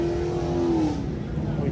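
A gutted V8 engine in a stock-looking Ford Mustang at a car meet in Florida revs loudly up close, its deep roar rising then easing over about two seconds amid the background noise of the meet.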